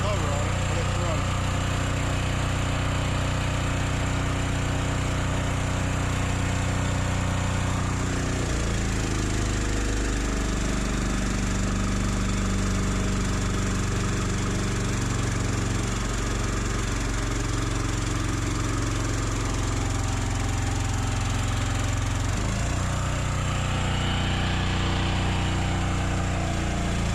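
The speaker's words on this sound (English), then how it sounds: "Now the conveyor's running." A covered conveyor runs with a steady mechanical engine drone throughout, with a brief shift in pitch partway through, loud and close with no talking.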